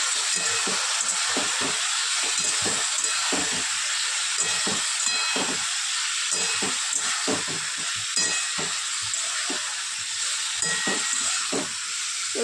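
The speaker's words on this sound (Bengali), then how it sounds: "এবার মশলাগুলো দিয়ে দেবো দিয়ে একটু কষিয়ে নেব" Spices sizzle and fry in a pan as ridge gourd is cooked down for fritters, a steady bright hiss broken by frequent short crackles and pops, close and alone.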